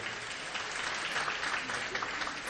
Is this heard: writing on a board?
no